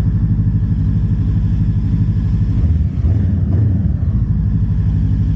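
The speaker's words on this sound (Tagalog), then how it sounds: "Ganda ng exhaust niya. Ganda ng tunog. Yun yung exhaust niya." Exhaust note of a Voge CU 525 cruiser motorcycle with aftermarket pipe, a loud, close, deep rumble that swells briefly as the throttle is blipped midway before settling back to idle.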